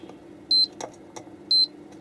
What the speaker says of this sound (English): That's okay, single beep